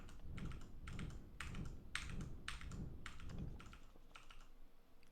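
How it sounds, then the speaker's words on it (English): Mouse clicks repeat in one place while RuneScape firemaking is played, giving a soft, close tapping in an even rhythm about twice a second over a low room hum, then trailing off near the end. "just clicking in one place"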